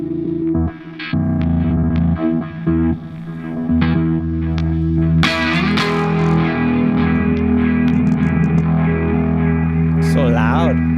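A Blooper looper pedal set to a fast ramp effect plays a loud, distorted, warbling guitar loop that shifts in pitch and texture, with a voice talking over parts of it.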